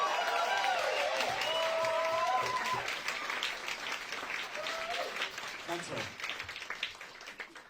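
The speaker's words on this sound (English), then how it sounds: "I just want to give a huge round of applause to this intrepid band" Audience applause for a band at a musical theatre livestream event, loud and dense at first, then thinning into scattered claps while a voice speaks over it.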